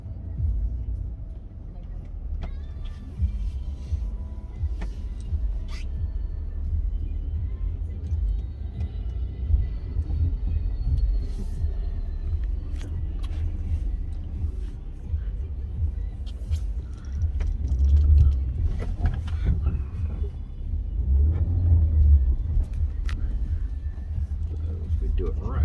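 An all-wheel drive car in off-road mode, gravel setting selected and front and rear differentials unlocked, crawls over gravel with a constant low engine and tyre rumble that swells near the end while people talk inside.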